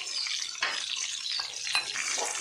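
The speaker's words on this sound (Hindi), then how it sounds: "उदा दाल थोड़ा सा फ्राई होने दे।" Urad dal frying in hot oil with curry leaves for a Mangalore village-style rava dish, a steady close sizzle broken by a few louder spits and stirring scrapes, with no talking.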